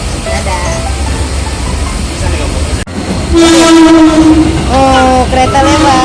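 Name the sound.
train passing by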